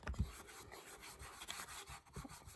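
A thrifted candlestick is rubbed and scraped to distress its finish. The strokes are short and uneven, close and fairly quiet, against a little background noise.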